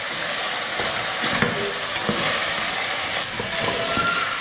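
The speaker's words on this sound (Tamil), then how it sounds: "மசால் போட்டு 2 நிமிஷம் இல்லைன்னா 3 நிமிஷத்துக்கு இந்த மாதிரி எண்ணெயிலேயே நல்லா வறுத்து எடுக்கணும்" Masala and chicken fry in oil, a dense, even sizzle and hiss close up with occasional stirring scrapes and clicks, no voices.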